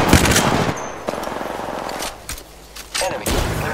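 Automatic gunfire from the Apex Legends video game crackles in rapid, loud bursts, dipping briefly before firing resumes, with a faint voice underneath.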